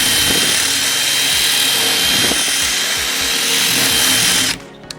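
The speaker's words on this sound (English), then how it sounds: "while it's in reverse, I'm actually gonna use the screw to open up this and give it a little countersink" A power drill runs in reverse, driving a screw backward to open a countersink in wood for a raised garden bed, a loud steady whir with rhythmic low grinding pulses that cuts off near the end.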